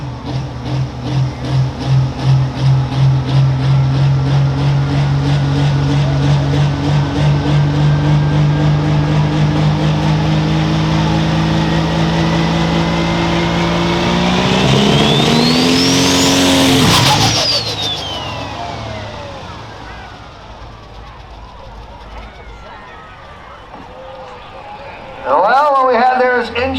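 A loud, roaring high-revving turbocharged pro stock tractor pulling engine drones steadily, climbs to a screaming peak, then cuts off and fades, leaving distant noise before a sudden burst.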